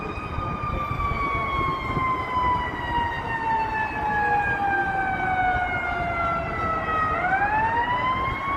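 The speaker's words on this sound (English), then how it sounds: "So the sirens there's an ambulance there, and I don't know where it wants to go." An ambulance siren wails steadily on a Chicago street beside the river near Wacker Drive, loud and continuous with gliding tones that drop and then rise sharply near the end, over city traffic rumble.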